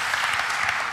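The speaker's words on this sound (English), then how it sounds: "an extra round of applause for a great pitch" Audience applause at a startup pitch event in Berlin, a steady dense wash of clapping filling the whole second with no pauses.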